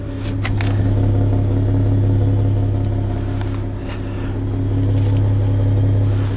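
A 2022 Ford F-150 Raptor in Baja mode, engine and exhaust giving a loud, steady low rumble heard from inside the cabin, with a slight swell and dip in revs.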